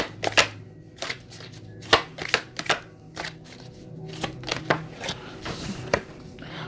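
Tarot cards being shuffled by hand close up, a series of crisp riffling and slapping bursts in an uneven rhythm, with quiet handling sounds in between.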